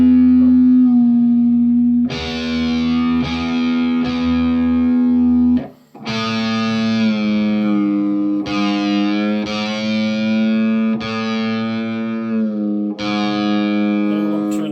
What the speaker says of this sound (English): Let me turn this distortion off here.